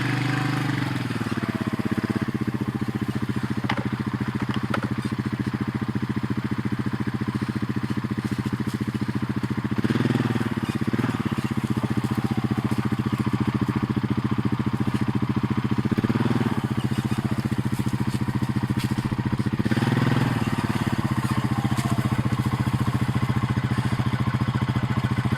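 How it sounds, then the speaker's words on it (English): Four-wheeler ATV engine running steadily while riding around a Christmas tree farm spreading lime and fertilizer, a continuous mid-pitched drone with a few brief surges in revs, fairly close and loud throughout with no talk. "After about an hour and a half of riding around on the four-wheeler, got all this done."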